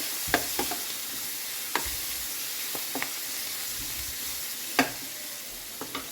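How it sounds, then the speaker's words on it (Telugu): Okra and tomato frying in a pan on a home stove, a steady sizzle with occasional sharp clinks and scrapes of stirring, close and moderately quiet, no talking. "టమాటా బెండకాయ వేస్తున్నా."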